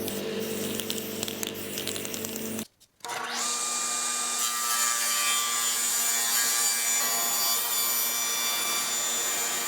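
A saw cuts the rounded edge off wooden boards with a loud, steady grinding rasp. It breaks for a brief moment, then resumes and runs on evenly at close range.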